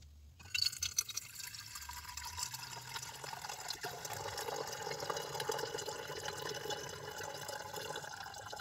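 Water is decanted off a small clean precipitate during home gold recovery, a steady close pouring and trickling that runs for several seconds after a brief start.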